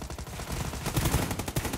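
Rapid bursts of gunfire from the battle-royale game PUBG Lite, loud and close, with several shots clustered in quick succession and a few sharper reports toward the end.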